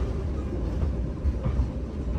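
KA Pandalungan train running on old, narrower rails between Pasuruan and Bangil, heard from inside the carriage as a steady, loud rumbling rattle and clatter that continues without pause throughout.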